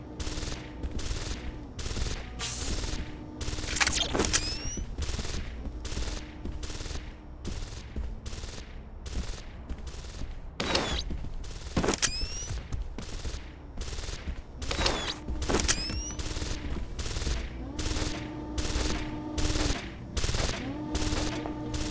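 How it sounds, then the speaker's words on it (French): An automated turret in Deus Ex: Invisible War fires rapid, sustained bursts, loud and close, repeating throughout with brief gaps between volleys, while other gunfire and game sounds mix in. "pendant que la tourelle les démonte et mon allié qui essaye de tirer sur la tourelle mais qui tire tout à côté"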